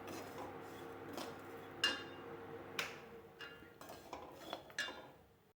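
Vermicelli being roasted for upma in a pan gives a quiet, steady rustle, broken by occasional sharp clinks and taps of a spoon against the metal, faint and without talk.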